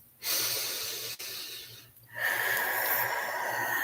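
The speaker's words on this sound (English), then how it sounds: "Deep breaths." Deep breathing, two long slow breaths drawn in and let out close to the microphone, separated by a brief quiet pause.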